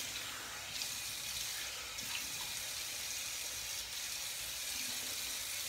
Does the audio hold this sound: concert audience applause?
no